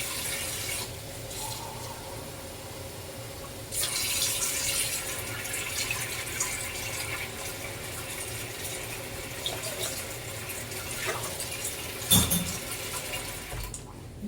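Water is poured into a skillet of cooking Mediterranean chicken and chickpeas, a steady splashing, running stream that grows louder partway through and continues over a low kitchen background.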